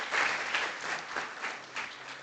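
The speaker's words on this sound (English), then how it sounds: "he deserves a big round of applause" A crowd at an academic lecture applauds warmly, a dense patter of clapping hands that holds steady and fades slightly toward the end.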